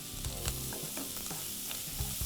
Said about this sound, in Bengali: অল্প একটু দিলাম বাটার